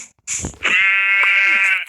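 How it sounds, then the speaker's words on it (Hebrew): A sheep bleats once in Minecraft: a short rustle, then a loud, drawn-out, wavering bleat lasting over a second, heard alone and up close. "יש לנו גם כבשות"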